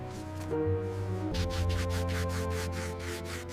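A handmade wooden shoe heel is sanded by hand in quick, even back-and-forth strokes. The rasping sound is close and steady over a faint constant hum, with no voices.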